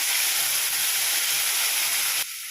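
Ground onion paste hits a hot pan already holding whole dry red chilli, cardamom, cloves and cinnamon, giving a loud, steady broadband sizzle close up that cuts off sharply near the end.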